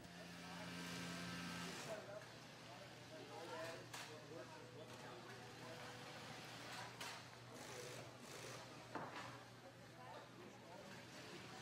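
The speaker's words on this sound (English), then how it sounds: "special heavy-duty sewing machine." A heavy-duty sewing machine stitching a scuba diving jacket hums and rattles steadily, with a low motor drone beneath quick mechanical chatter, and faint speech in the background.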